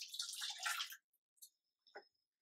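A brief splashy rush of hot water poured over goat tripe during cleaning for about a second, then a few faint drips and clinks in near silence.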